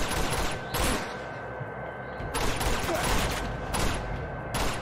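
Rapid gunfire from the video game Uncharted 2: dense, continuous volleys of shots with repeated louder bursts throughout, loud and close.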